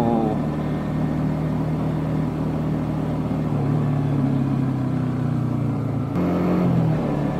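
A Yamaha Jupiter MX-150 (MX King) motorcycle engine drones steadily while riding on a rough, potholed road, with a pitch shift near the end as it changes gear.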